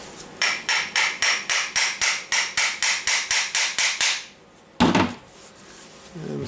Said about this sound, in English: I think the easiest way is to put a puncher here and hammer it.